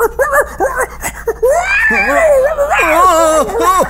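A cartoon puppy yips and whines in rising, wavering cries close by, mixed with people talking.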